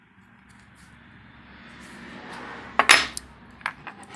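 A small one-sided Starrett alligator wrench clinks and rattles against metal in a few sharp, close taps over a quiet background, with no talk.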